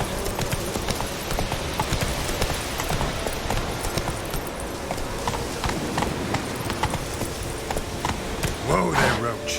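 Horse hooves clip-clop at a quick trot as Geralt rides his horse Roach through the game world in The Witcher 3, a steady rhythmic patter with background ambience and a brief vocal sound near the end.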